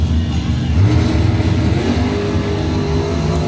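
A 67 Dart GT and a 69 SS Camaro run at drag-strip time trials, engines roaring loud and steady in a continuous blur of revving at close range, with no break in the noise.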